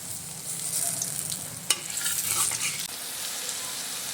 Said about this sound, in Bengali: একটু সময় দিয়ে পকোড়াগুলো আমি ভেজে নেব।